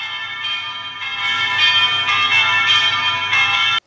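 Five small bells ring together all at once, a bright, sustained shimmer of overlapping chimes that swells louder about midway and holds steady before cutting off abruptly.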